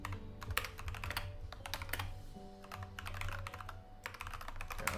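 Steady, rapid clicking of a computer keyboard while someone writes compiler code in Notepad++, the keystrokes close and busy with brief pauses over a low room hum.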